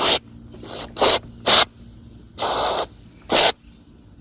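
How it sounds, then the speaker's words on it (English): Several short, sharp bursts of aerosol lubricant spray hiss close up onto a rusted car door hinge, one longer than the others, separated by quiet pauses. "we're gonna go ahead and spray some on this rusted hinge here"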